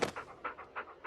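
A dog panting close up, rapid rhythmic breaths of about six or seven pulses in quick succession, clear and alone.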